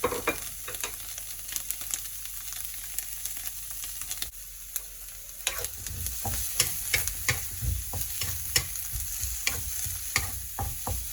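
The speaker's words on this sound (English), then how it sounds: "Give it a mix up. Let your onions fry." Chopped onion fries and sizzles in a pan for pad thai, a steady crackling hiss with sharp clatters as it is stirred, growing busier and louder partway through.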